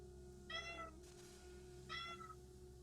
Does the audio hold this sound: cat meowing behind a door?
yes